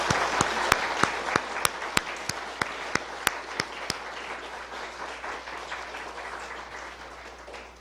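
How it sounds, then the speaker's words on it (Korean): A church congregation applauding, dense sustained clapping with a few sharp nearby claps standing out during the first four seconds, then a softer and gradually fading wash of applause. "다시 한번 박수 하겠습니다"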